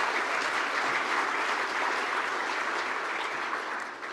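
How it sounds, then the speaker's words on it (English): Steady, dense applause from a large audience at an award ceremony, loud and continuous for several seconds with no speech over it, tapering slightly at the end. "Thank you for cheering."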